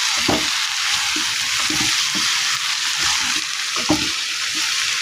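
Tomatoes and rock salt sauté in a hot pan, a steady close sizzle with soft scraping stirs and occasional louder bursts throughout.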